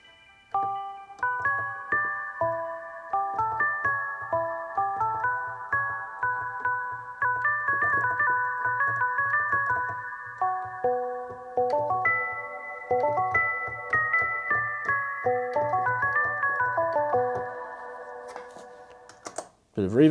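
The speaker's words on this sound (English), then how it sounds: "Bit of reverb on that. That's from the Big Sky Clouds algorithm." Behringer Brains synthesizer notes with reverb from a Big Sky Clouds algorithm, a long run of plucked bell tones with repeated attacks blurring into a sustained ambient haze before a brief noisy ending.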